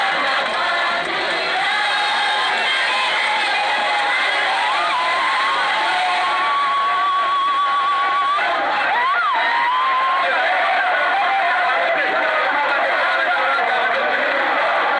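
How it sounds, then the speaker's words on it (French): A huge crowd in Boende cheers the arrival of a politician, a steady, dense roar of many voices with whistle-like tones rising and falling through the middle, constant and loud throughout. "Une foule immense l'attendait comme l'attestent ces images."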